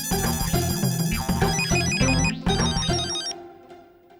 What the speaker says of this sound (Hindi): नाम लिया और गड़ा इलेक्ट्रॉनिक से फोन भी आ गया